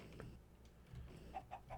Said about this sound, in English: There's chickens somewhere up in here.